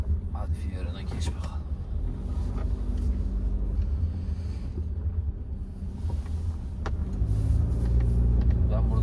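A Fiat Fiorino van drives by on a road with a low engine rumble that swells toward the end. Muffled voices murmur underneath.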